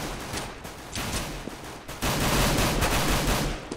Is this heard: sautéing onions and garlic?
no